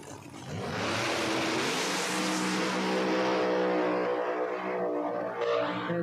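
A No Prep Kings drag car, Jeff Lutz's, makes a full pass down the strip at Empire Dragway, a loud sustained engine roar holding steady at high revs for several seconds, with no talk over it.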